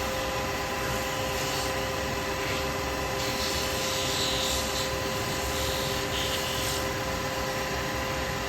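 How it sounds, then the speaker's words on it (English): Constant droning mechanical rumble with a steady whine from a helicopter flying overhead, continuous and unchanging throughout. "Sounds like a helicopter or something going over."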